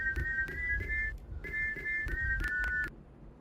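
Someone whistles a short, clear tune of repeated high notes in two quick bursts, close and moderately quiet with no talking.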